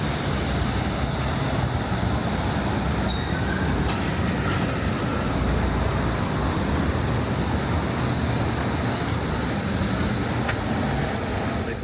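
Wolmi Sea Train, a tourist monorail on Wolmido island, rolls past in a steady, loud, continuous rumble with faint wheel squeal, holding an even level for about twelve seconds with no voices.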